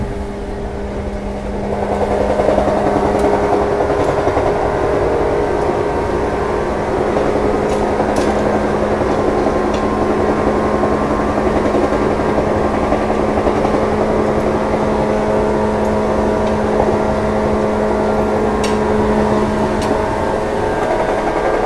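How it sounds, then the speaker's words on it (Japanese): Electric traction motors of the Ginga night express train drone steadily from below the gangway between cars, a loud continuous hum with rumbling running noise and faint rattles, no talking. "ちょっとこのモーター音を聞いてほしいな"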